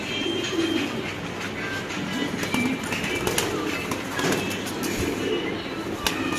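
Pigeons at a pigeon seller's stall coo softly and repeatedly under a constant wash of busy market background noise.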